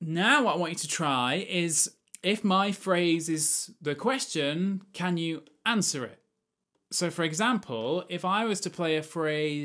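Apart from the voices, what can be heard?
None of the usual background noises is heard.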